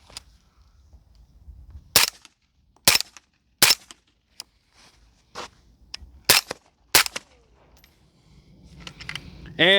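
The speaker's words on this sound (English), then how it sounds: "Shoot this tree over here." Suppressed rifle shots fired at a tree through a DeadAir Wolfman suppressor: about six sharp, close reports in an uneven sequence separated by quiet gaps, with a faint murmur of voices near the end.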